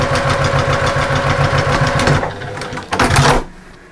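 Sewing machine stitching a fabric storage pouch, running in a steady fast rhythm for about two seconds, pausing briefly, then a short back-stitch burst before stopping; close and fairly loud, with no talk.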